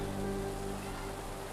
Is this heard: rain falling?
yes